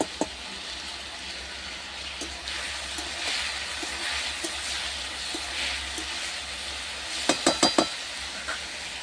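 Egg and potato frying in a covered pan give a steady, close sizzle throughout, with a quick run of sharp utensil clicks near the end.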